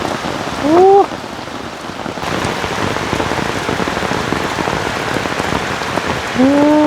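Steady rain falls on a surface around a hut under construction, a dense even patter that lasts throughout, with a couple of brief tonal chirps rising above it.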